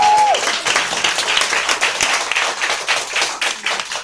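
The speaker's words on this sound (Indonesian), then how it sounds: "ang pertama adalah Cynthia Nilam, Bapak Ibu, tepuk tangan." An audience at a networking business presentation breaks into loud, sustained applause, a dense wash of many hands clapping close by, with a brief tone sounding at the start.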